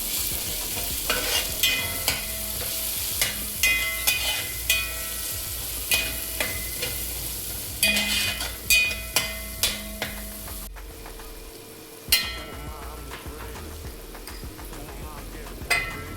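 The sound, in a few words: frying masala with coriander and chilli powder for egg biryani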